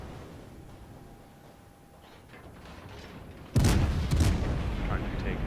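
Heavy naval guns boom from warships in World of Warships, a sudden loud salvo with rumbling follow-up blasts after a quieter stretch of ambient sea and engine noise.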